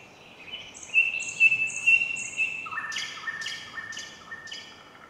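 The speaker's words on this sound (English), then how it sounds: "listen to the birds chirping" Birds chirp and trill in short repeated phrases, one high song followed by a lower series of rapid calls, clear against a quiet outdoor hush.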